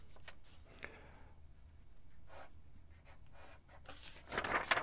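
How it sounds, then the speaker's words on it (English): Pencil scratches across paper as a rectangle is drawn, soft, close strokes in short bursts with brief pauses, growing a little louder near the end, no talking. "I've drawn a rectangle"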